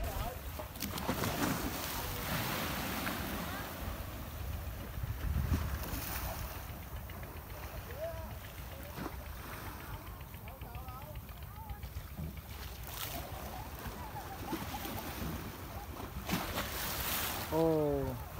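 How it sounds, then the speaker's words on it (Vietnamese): Sea waves wash in a steady roar at Tân Thành beach in Gò Công, mixed with wind buffeting the microphone, while a person speaks over the surf. "Phải nói là cái tiếng sóng biển ở đây rất là đã luôn, đã tai luôn mọi người ơi."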